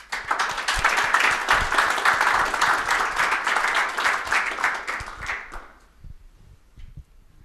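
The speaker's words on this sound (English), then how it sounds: "Let's give a round of applause to Sam." After a conference talk on Drupal security audits, the audience gives Sam a round of applause: thick, lively clapping that swells quickly, holds, then thins and dies away over the last two seconds.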